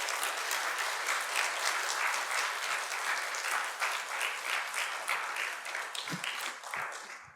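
A church congregation at a lecture applauds to welcome a former culture ministry director to the podium, a dense, steady clapping that holds for several seconds before thinning near the end.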